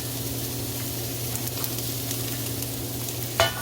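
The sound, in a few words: onions frying and being stirred in pan for chop suey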